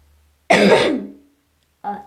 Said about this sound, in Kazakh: Жөтеліп адым